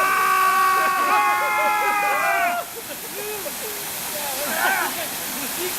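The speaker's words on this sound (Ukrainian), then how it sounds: "Вода пішла." Water gushing out in a continuous loud hissing rush, with excited voices talking and shouting over it.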